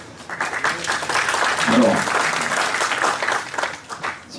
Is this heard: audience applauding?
yes